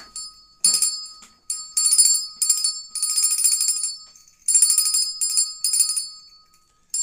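A small bell rings close by in quick bright bursts of dings separated by short pauses, loud and clear against silence.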